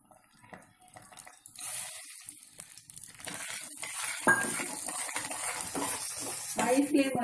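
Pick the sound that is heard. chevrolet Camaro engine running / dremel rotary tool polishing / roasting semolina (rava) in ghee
roasting semolina (rava) in ghee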